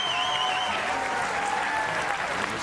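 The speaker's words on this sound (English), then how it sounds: "His wife applauds." Applause at a televised PBA bowling tournament semifinal, with steady, moderately loud clapping from the crowd. Faint tonal whistles run beneath it.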